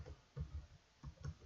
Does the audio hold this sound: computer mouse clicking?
yes